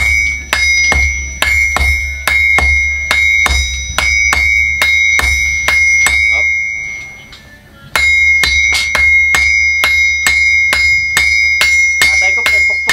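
A hammer pounds metal in a fast, regular series of sharp ringing strikes with a bright metallic tone, loud and close, pausing briefly midway before resuming; a voice is heard briefly.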